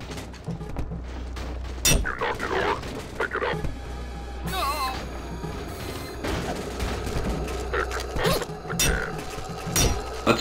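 Gunfire in the video game Day Zero, irregular bursts of sharp shots mixed with clinks and mechanical reloading noises over a low background rumble, loud and close with a few gaps between volleys.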